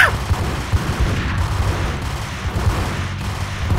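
Gunfire in Max Payne comes as loud, dense bursts of repeated shots with booming low thumps, close and continuous across the moment.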